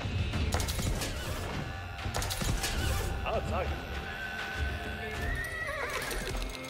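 Horses whinny and neigh amid the clatter of cavalry hooves and battle noise in the video game Age of Empires 4, a dense, continuous mix with a rising whinny near the end.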